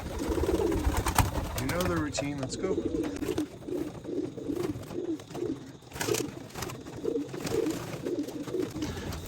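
Racing pigeons coo repeatedly inside a loft, a close chorus of soft rolling calls in a steady rhythm, with someone speaking over them near the start.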